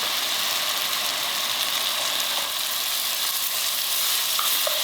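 Ground hamburger meat frying in a pan for Bolognese sauce, a loud, steady close sizzle with crackling spits throughout and no talk.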